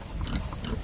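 Pig grunting and snuffling at close range in its pen, a short low rumbly burst running steadily through the moment with no talk.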